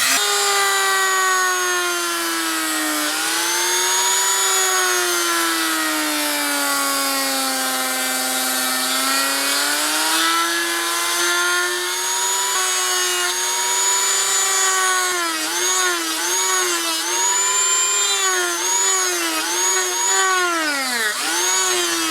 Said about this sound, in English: to make those slots, I'm going to use a Dremel with a burr bit